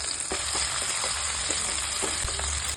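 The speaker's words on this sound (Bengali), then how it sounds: "কিউব করে আগে থেকে কেটে রাখা পেঁয়াজ, ক্যাপসিকাম আর মশলা দিয়ে ভালো করে নাড়াচাড়া করে নিচ্ছি।" Cubed onion, capsicum and spices being stirred in hot oil for chilli soyabean, with a steady close sizzle and occasional soft spoon scrapes throughout.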